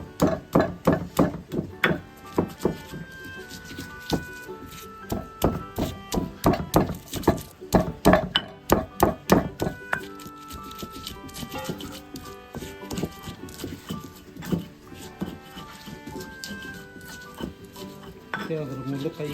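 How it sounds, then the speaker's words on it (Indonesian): Stone pestle pounding and grinding chili paste in a mortar for balado tongkol, a spicy tuna dish, in a village kitchen: rapid repeated knocks and scraping strokes, close and loud, in irregular bursts. "Ini ngulek ya teman-teman buat balado tongkolnya."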